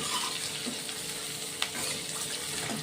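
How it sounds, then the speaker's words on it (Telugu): Chopped garlic pieces fry in hot oil in a pan for a curry with eggs, giving a steady soft sizzle with faint stirring scrapes and one small clink. "కట్ చేసుకున్నటువంటి వెల్లుల్లిపాయ ముక్కలు కూడా వేసుకుంటున్నాను"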